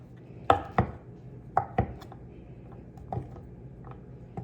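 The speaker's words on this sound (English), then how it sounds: "I'm chopping this up real fine." Browned sausage being chopped finely with a knife on a cutting board for a cheese sausage dip, crisp separate knocks in uneven pairs and singles, close and clear, with no talking.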